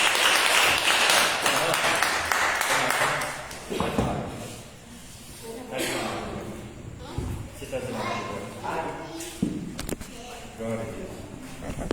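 A burst of clapping from a congregation at a church service fades out, followed by people talking in Portuguese with occasional thumps.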